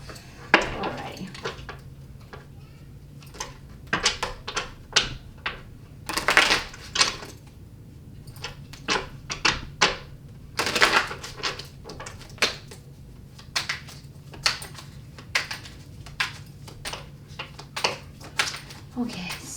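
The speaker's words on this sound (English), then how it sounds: "And while I shuffle" Tarot cards being shuffled by hand, a run of crisp, close riffling clicks and slaps coming in irregular bursts, with quieter pauses between them and a steady low hum underneath.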